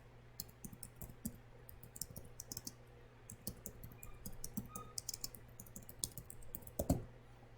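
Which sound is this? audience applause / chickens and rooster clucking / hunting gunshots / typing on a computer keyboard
typing on a computer keyboard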